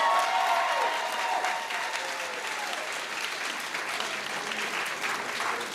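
An audience claps for 8th grade students being promoted to 9th grade at a school promotion ceremony, a dense, sustained round of applause that stays fairly even throughout, with faint crowd murmur underneath.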